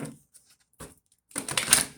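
Tarot cards are shuffled by hand, with a few brief riffling taps and then a denser, louder flurry of card snaps close to the microphone, without speech.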